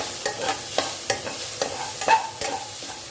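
Garden okra with chilli powder, salt, coriander powder and rice flour fries in a pan, a steady close sizzle punctuated by regular scraping stir strokes roughly every half second.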